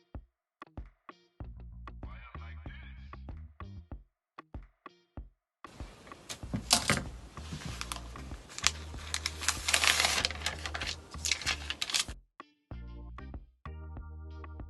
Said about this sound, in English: And now just cut around your template.